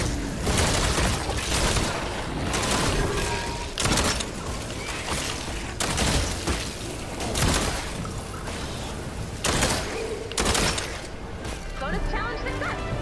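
Primal Pistol shots in Fortnite Save the World, dense bursts of gunfire and impacts over game effects and music, loud and continuous with a voice talking over much of it.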